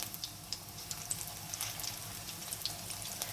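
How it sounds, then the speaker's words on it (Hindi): Onion pakoras made with besan batter fry in hot oil, giving a steady soft sizzle scattered with small crackles and pops, close and fairly quiet, with no talk. "ये देखिए हम इसको फ्राई करने लगे हैं।"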